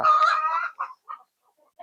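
A country chicken in a poultry shed gives a loud, close squawking cluck, followed by a few shorter, softer clucks spaced apart.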